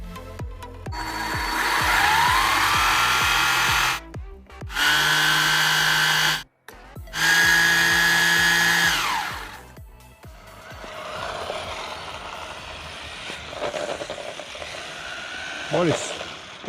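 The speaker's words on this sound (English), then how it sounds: "I think that scraping noise is the wheel hitting the body." JJRC/SuChiYu 1/16 street and drift RC car with a wheel scraping against its body while the motor whines in bursts, a close, loud buzzing grind that rises and falls, then quieter rattling scrapes.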